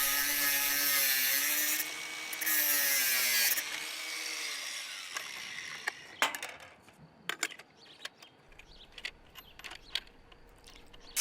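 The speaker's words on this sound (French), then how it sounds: "C'est maintenant que le support horizontal de l'électrode peut être meulé à fleur." An angle grinder cuts a horizontal electrode support flush, with a loud, high-pitched whine that stops after a few seconds, spins up again briefly, and winds down, followed by scattered clicks and knocks of metal handling.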